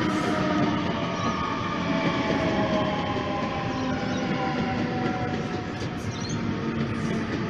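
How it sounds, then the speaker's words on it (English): A Sydney suburban train rumbles steadily close by as it arrives at Macdonaldtown station platform, a continuous heavy rolling noise with faint squealing and hum, like a carriage pulling along a platform. "M set arriving on the platform number 1 for a City Circle service."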